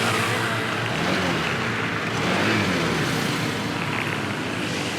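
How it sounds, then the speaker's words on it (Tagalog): A Honda ADV 160 scooter undergoing CVT restoration runs with its engine droning steadily and loudly, the pitch rising and falling slightly as it is revved, close by. "Pinarev ko kasi kay Simon yung motor para makita ko kung maangat ba yung belt."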